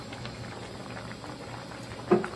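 A pot of Isan-style curry with pork skin and leaves bubbling at a low, steady simmer, with a soft, continuous burble and one brief louder pop near the end.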